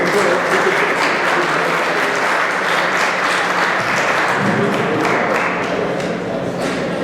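An audience claps for a guest at the opening of a digital education forum, a dense, even burst of applause held at a steady level for several seconds with no voices on top.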